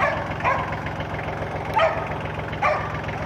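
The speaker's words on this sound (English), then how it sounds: "That's what he was barking at." A dog barks a few times in short, sharp, spaced-out yelps, moderately distant outdoors, above a steady low background rumble with no one talking.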